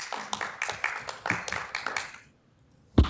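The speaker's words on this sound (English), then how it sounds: "Sorry, no clapping and outbursting." Scattered clapping from a small audience at a city council meeting, a short ragged burst of claps that fades into silence, followed by a sharp thump.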